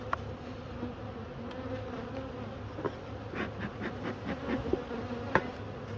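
A dense, steady hum of many agitated honeybees buzzing close by at an open hive during a brood frame inspection, with occasional sharper taps and knocks among the droning swarm.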